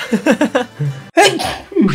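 A person sneezes loudly and close by during a casual gaming session. Breathy voiced lead-in sounds build up before a sharp burst, followed by a second strained exhalation.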